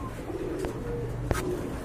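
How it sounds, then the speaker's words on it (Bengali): A pair of Rajshahi Giribaz pigeons coo briefly and close by, with a soft murmur and a short sharp knock over a low, steady background. "আর এখানে কিন্তু আরেক জোড়া কবুতর আছে, রাজশাহী গিরিবাজ"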